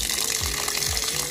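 Water gushes strongly from an outdoor tap in a steady, hissing rush that stays loud throughout the brief moment.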